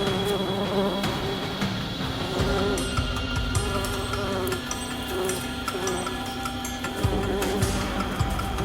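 A swarm of angry honey bees at their hive makes a thick, continuous buzz of many wings, layered and droning without a break.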